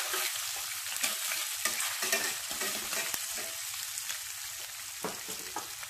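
Octopus pieces fry on high heat in a blue steel pan, a steady broadband sizzle with frequent stirring scrapes and clatters running throughout, fairly close and without talk.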